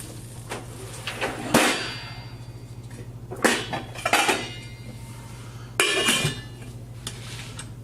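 A lid goes onto a cooking pan of couscous, taken off the heat, with a few metallic clanks and clinks spread over several seconds, moderately close in a quiet kitchen.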